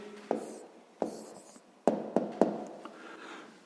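Pen scratching out a maths answer on paper, short strokes and a few sharp taps spaced irregularly, quiet and close by with no voice.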